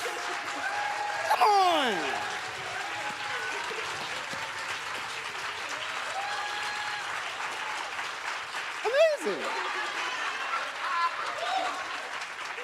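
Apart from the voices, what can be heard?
audience applause for a poet at a literary summit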